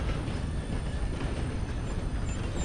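Train rolling past in the Red Dead Redemption 2 video game, a steady rumbling clatter of wheels on rails with faint squeals, moderately close and without speech.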